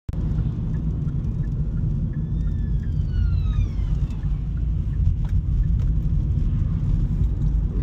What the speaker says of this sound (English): Just have to let that ambulance go.